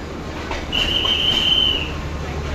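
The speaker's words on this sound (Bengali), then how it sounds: "এই প্ল্যাটফর্মে ঢুকে গেছে ট্রেন" A train rumbles close by as it arrives at Sreepur railway station platform in Bangladesh, its wheels letting out a long high metallic squeal for about a second before easing off.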